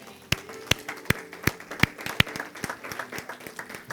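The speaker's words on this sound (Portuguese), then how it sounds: "É isso mesmo, uma salva de palmas a Ele." Scattered, sparse claps at a church service praising Jesus, a few distinct loud hand claps at an irregular, slowing rhythm, fairly close, with little else around them.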